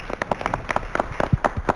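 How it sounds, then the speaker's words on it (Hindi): Applause for a judge at a televised music program, a small group of distinct hand claps in an uneven patter, fairly close but modest in loudness. "जोरदार तालियां इनके लिए"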